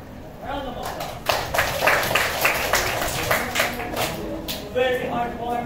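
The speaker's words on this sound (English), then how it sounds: "Round of applause" A classroom group breaks into a round of applause, with scattered claps quickly building into brisk, sustained clapping from many hands that keeps going to the end.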